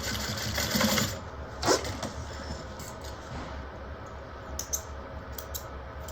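Sewing machine stitching the seam of a handmade bag, running in a steady close-up whir with a brief louder burst near the start and a short backstitch pass, no talking.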